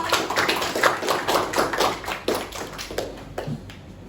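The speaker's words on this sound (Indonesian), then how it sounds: "Ya, beri aplaus." A classroom audience claps for a student group during a coding teaching-practice session, giving a few seconds of dense, steady applause at moderate distance that slowly thins out.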